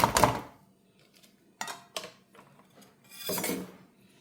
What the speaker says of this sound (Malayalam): ഇത് നന്നായി ഇളക്കി ചേർത്തെടുക്കാം.